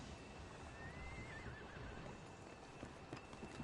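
A horse in the Assassin's Creed Syndicate video game gives a faint, wavering whinny over a steady bed of game ambience, with a few soft hoof clops toward the end.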